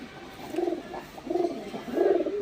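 Female pigeon cooing close by, three soft throaty coos in a steady rhythm, each a little louder, with no talk over them.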